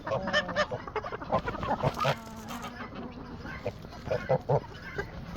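Çorum geese at a farm honk repeatedly in short, uneven bursts, several calls overlapping near the microphone, with a faint buzzing hum running underneath.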